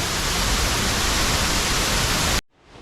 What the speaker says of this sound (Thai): น้ำตกใหญ่อยู่ในนี่เลยครับ